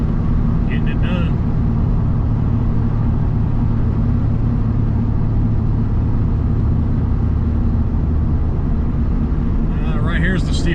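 Heavy RAM 3500 pickup hauling a wide load up a steep grade, its diesel-like engine a loud, steady low drone throughout, downshifting into third gear, with brief rattles and clanks near the start and end.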